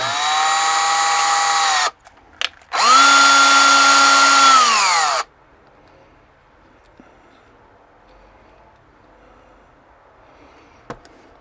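A power drill whirs loudly for about two seconds, stops briefly, then drills again for a longer burst before cutting off, leaving quiet room tone.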